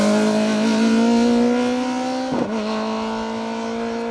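Vauxhall Nova rally car on an asphalt stage, its engine note holding a steady loud drone near the microphone, with a brief jolt and dip midway as it crests a brow, then the engine carrying on.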